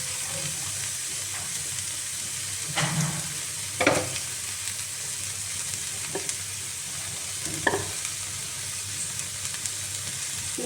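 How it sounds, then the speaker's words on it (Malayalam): Chopped carrots sizzle and crackle steadily in a hot pan, with a few louder scraping stirs of a spoon punctuating the constant frying hiss. "പിന്നെ നമ്മൾ അരിഞ്ഞു വെച്ചിരിക്കുന്ന ക്യാരറ്റ് എടുത്തിടുക."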